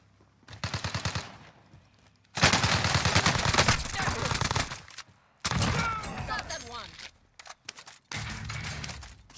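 Call of Duty: Warzone gunfire comes in several loud bursts of rapid automatic shots with short gaps between them, close and harsh, while players talk.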